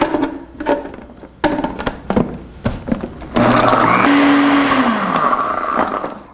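Clunking and handling noises give way to a loud kitchen blender whirring on, blending a mixture with a spoonful of oil, its motor pitch shifting as it churns.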